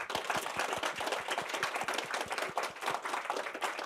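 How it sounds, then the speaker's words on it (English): A conference audience gives applause for two speakers at a talk on Brexit and the Nordics, a small room's worth of fairly quiet, evenly spaced clapping throughout. "could you all join me in giving a big applause to our two speakers?"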